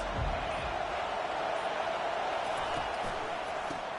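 Stadium crowd roaring in a college football video game with LSU, a steady broad wash of cheering noise held at an even level throughout, no distinct voices standing out.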